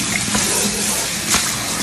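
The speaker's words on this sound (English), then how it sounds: "Pour this water out." Rinse water left from washing collard greens pours out in a steady, loud, close rush and splash, with a couple of brief thumps along the way.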